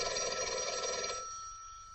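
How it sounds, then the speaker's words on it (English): A telephone bell rings in a steady, continuous trill for about a second, then cuts off, leaving a faint lingering hum and room tone; no voices are heard. "Your phone's ringing."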